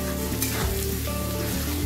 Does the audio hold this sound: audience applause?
no